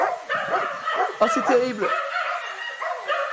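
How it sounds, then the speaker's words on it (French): A Bloodhound character in a video game gives several yappy, whimpering barks in quick bursts. Someone speaking French talks over them and between them. "I just bark, only bark."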